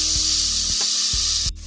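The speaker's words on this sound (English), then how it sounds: "you want to add in your minced garlic. And we're going to let that saute for 1 minute" Minced garlic sautéing in a pot for creamy chicken noodle soup makes a bright, continuous sizzle with a few soft knocks underneath, then cuts off abruptly just before the end.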